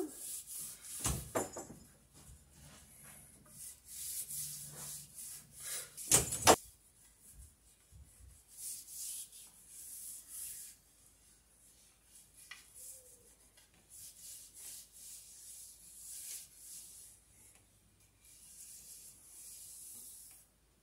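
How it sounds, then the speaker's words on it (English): Linseed oil being rubbed into freshly sanded wood by hand, giving soft, repeated scrubbing strokes in uneven bursts. The strokes are close but fairly quiet, with short pauses between them. "I'm gonna put linseed oil on them."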